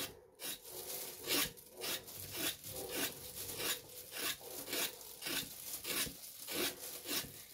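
A hairy gourd, or chi qua, is scraped to remove its fuzz, making a close, quiet rasping sound in a steady rhythm of repeated strokes, roughly two per second.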